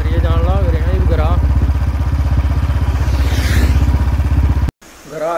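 A Royal Enfield Bullet motorcycle thumps with a steady, loud low-pitched beat, close to the listener, while people talk over it, before a brief cut.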